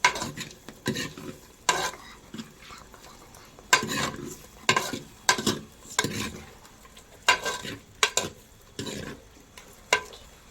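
A spatula stirs ginger-garlic paste in a hot pan for chicken, with repeated scraping strokes about once a second over a faint sizzle.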